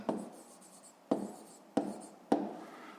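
Handwriting on paper during a fifth-grade maths exercise, four separate scratchy pen strokes spaced irregularly, close and soft with no speech.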